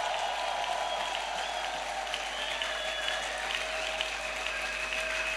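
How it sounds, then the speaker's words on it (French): A church congregation claps and applauds in praise, a dense steady round of clapping that fills the room at full strength throughout. "Est-ce qu'on peut acclamer le Seigneur?"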